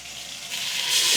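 Water poured into a pot of lightly oil-warmed spices while making chicken biryani, a steady broadband hiss and sizzle that swells louder toward the end, close and alone.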